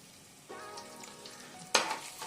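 Cashews hiss and sizzle in hot oil with cumin, pepper and ginger for pongal, a steady fry punctuated by a sharper burst of crackling as more goes into the pan, fairly quiet and close.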